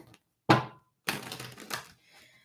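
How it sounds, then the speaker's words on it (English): A deck of tarot cards being shuffled during a live psychic reading: a sharp riffle burst, then a longer crisp flurry of cards slapping together, close and quick, with a faint rustle at the end. "Last shuffle right here."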